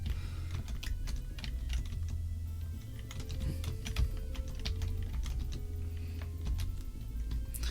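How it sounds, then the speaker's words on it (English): Steady, close clatter of computer keyboard keys tapped in quick irregular bursts during play of the space game Frontier Elite 2, with a low hum beneath. "I am flying with keyboards, Stephen, because I just can't do the mouse."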